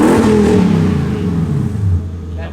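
Lexus LS400 V8 revving, heard from outside the car: a loud rising engine rev that peaks early, then slowly winds down toward idle and fades near the end.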